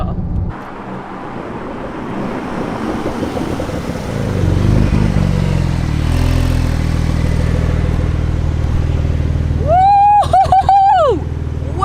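A Porsche 911 launches hard under launch control, its engine building into a loud, sustained roar that swells and holds, ending with a rising, whining pitch sweep as it pulls away.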